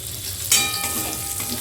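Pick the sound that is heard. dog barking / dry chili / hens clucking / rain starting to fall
dry chili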